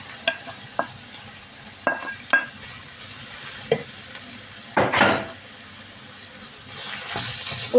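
Minced meat goes into a hot pan with onions and sizzles as a spoon stirs it, with scraping clatters and a rising fry. It is cooking for stuffed aubergine karnıyarık.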